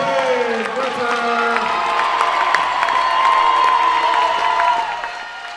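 A loud crowd roars and cheers continuously at a Brookings versus Sioux Falls state semifinal game, with shouts and whoops rising over the sustained din.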